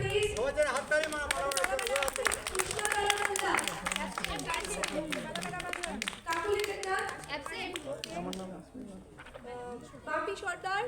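Applause at a Republic Day school or community gathering, bursts of hand clapping from a crowd mixed with loud talk and children's voices throughout.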